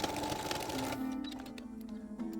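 Sewing machine stitching close parallel quilting lines across a small mug rug, its motor whirring steadily throughout with a continuous mechanical hum and rapid needle rhythm, close up and alone without talk.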